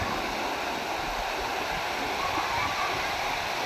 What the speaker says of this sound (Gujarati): પાનમમાં રાત્રિના સમયે સવારના સમયે વરસાદ થવાના કારણે એમાં પૂર આવ્યું છે